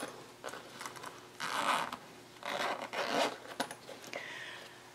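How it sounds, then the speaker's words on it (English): Zipper being opened on a sewn messenger bag, a series of several quiet, close zipping pulls with short pauses between them and no talking. "you want to open up your zipper all the way for this step"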